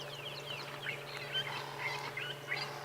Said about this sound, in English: It is a beautiful bird call.